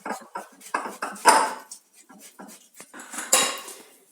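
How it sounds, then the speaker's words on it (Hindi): Boiled potatoes being grated for aloo paratha stuffing, a series of close rhythmic rasping strokes with short gaps, some louder scrapes and light metallic clinks. "इनको हम कद्दूकस कर लेते हैं जिससे कि इसमें लम्स न रहें।"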